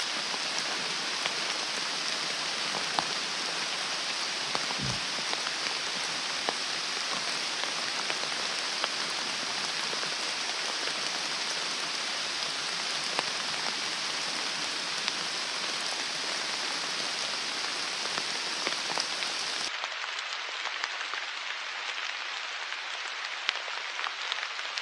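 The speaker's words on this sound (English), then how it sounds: "Rain's here." Steady, dense rain patters on a surface for a long stretch during a spring turkey hunt in Tennessee, a constant hiss of drops that drops off abruptly near the end.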